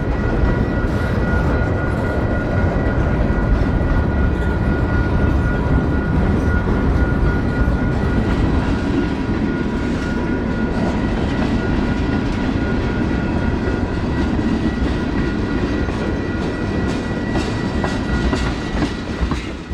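A 70-year-old short line locomotive shifting and kicking rail cars near the old DuPont nylon plant in Seaford, rumbling and clattering steadily and loudly throughout, with continuous wheel and car noise and no voices.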